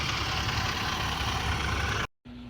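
A large tractor runs in a hilly watermelon field with a loud, steady, low engine drone up close. It cuts off abruptly near the end, then a quieter hum resumes.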